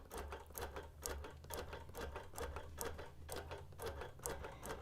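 A sewing machine stitching during free motion quilting on a hexie quilt, its needle chattering in fast, uneven bursts of rapid clicks over a low motor hum, quiet and close with no voices.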